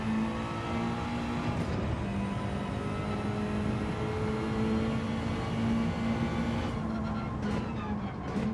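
A Mazda race car engine revs hard in a racing video game, one steady sustained drone held for the whole stretch and easing slightly near the end, with no voices over it.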